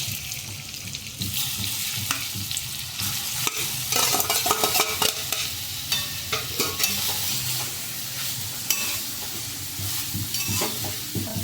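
Grated carrots sizzle in hot ghee in a heavy-bottomed kadai for gajar halwa, a steady frying hiss broken by repeated scraping stirs of a spoon, close and clear with no voices.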